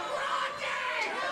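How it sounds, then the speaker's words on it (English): A packed wrestling arena crowd roars steadily for a Ryse no-rules championship match, a dense, continuous wash of cheering and chatter heard at a distance. "this partisan Ryse crowd that has jam-packed this building once again this month"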